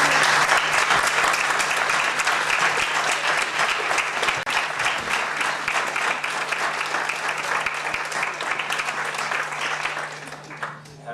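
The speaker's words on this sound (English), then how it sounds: "I'd first like to ask the volunteer coaches to please stand so we can give you a round of applause." A room full of people at a county public meeting gives sustained applause for volunteer coaches, a dense, loud wash of clapping that holds steady for about ten seconds and then tapers off.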